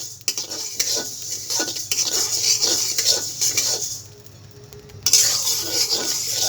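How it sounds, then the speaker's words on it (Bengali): Half a kilo of raw rice stirred and fried in a pan on a gas stove for biryani, with repeated scraping and metallic clatter of the spatula against the pan over a low sizzle, close and loud. "এই চালটাকে অনবরত এভাবে নেড়ে চেড়ে ভাজতে হবে, না হলে পুড়ে যেতে পারে"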